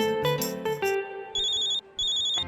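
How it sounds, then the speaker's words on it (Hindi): A mobile phone plays a melodic ringtone, a few bright musical notes followed by repeated high electronic trilling rings, loud and close with no talking. "इसको कौन फोन कर रहा है?"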